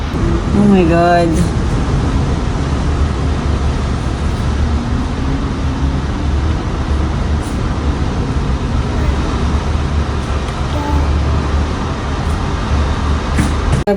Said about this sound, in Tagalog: Grabe yung tunog ng hangin.